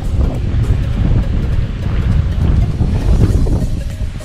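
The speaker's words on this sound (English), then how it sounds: "It's a little bit windy, so I apologize if the audio is not very good." Heavy wind buffeting the microphone near the ocean in the Cayman Islands, a continuous low rumble, steady and loud throughout with no voices.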